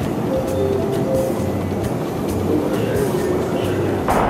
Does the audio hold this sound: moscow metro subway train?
yes